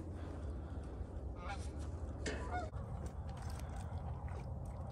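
Several geese honk at a distance over steady low outdoor rumble, with a few brief calls standing out in the middle of the stretch.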